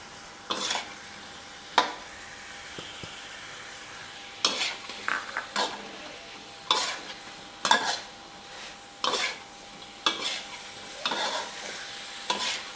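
Garlic frying in a pan for homestyle salt-roasted pork, a quiet sizzle broken by repeated scraping stirs of a utensil against the pan, with no speech.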